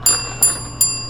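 A doorbell at a customer's door on a food delivery run chimes three times in quick succession, bright ringing tones each decaying into a low steady hum.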